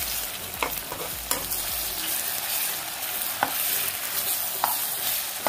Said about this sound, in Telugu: ఈ బేస్ని బాగా కలుపుకోండి.